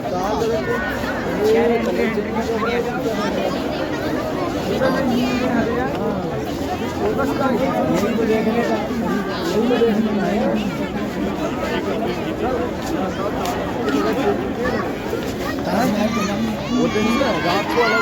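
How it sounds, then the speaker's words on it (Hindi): Dense babble of a large crowd at a busy temple, many voices chattering continuously, children among them, a steady loud hubbub throughout. "आज बहुत ज़्यादा भीड़ है"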